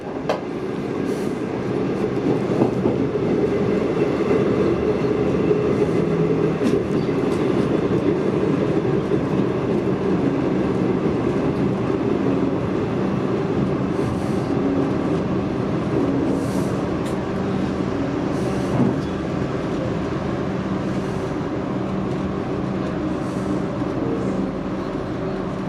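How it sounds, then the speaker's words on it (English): A V/Line train drawn by a locomotive arrives and stops at Geelong: a steady rumble of rolling carriages with faint clicks, then a mild bump as the end carriage rolls into the locomotive before it settles. "That bump here, Phil, is just the end carriage rolling a bit into the locomotive and it stops"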